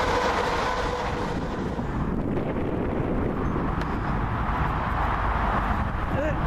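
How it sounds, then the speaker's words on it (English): A Class 380 three-car passenger train pulls out of Ardrossan Harbour, a steady broadband rumble with wind buffeting the microphone, continuous and fairly close throughout. "Here's our train out of it."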